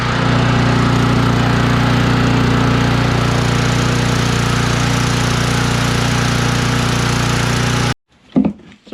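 A lawn mower engine with a freshly cleaned carburetor runs loud and steady at a constant high idle, then cuts off abruptly, leaving a brief faint rattle.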